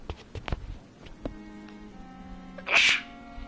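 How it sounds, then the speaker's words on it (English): A single sharp sneeze bursts out near the microphone late in the stretch, loud and brief, following quieter shuffling and small handling noises in an indoor setting. "I feel like I'm about to sneeze"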